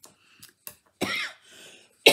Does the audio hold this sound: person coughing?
yes